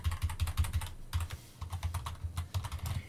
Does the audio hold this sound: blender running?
no